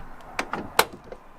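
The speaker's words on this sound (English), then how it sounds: "apparently the passenger door makes a clicking noise when you open and close it" A Peugeot passenger door being opened and closed, giving a series of short, sharp clicks and latch knocks spread over about a second and a half, close by with no talking.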